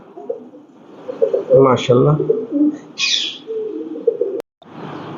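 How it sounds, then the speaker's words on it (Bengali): Modena pigeons coo in low, throaty bursts, mixed with soft chirps and a voice speaking briefly among them. "এগুলো হলো মডেনা কবুতর"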